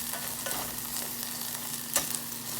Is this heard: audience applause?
no